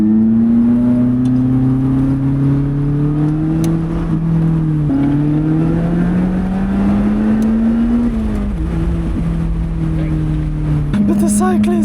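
A Lotus Elise engine drones loud and close as the car accelerates on an Austrian road, pitch climbing and dipping through gear changes while it pulls past other cars.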